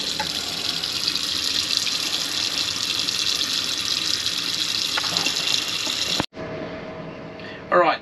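Cold tap water running into a pot holding chicken: a loud, steady gushing stream close by for about six seconds, then it cuts off abruptly, leaving a quieter room with a brief clatter near the end.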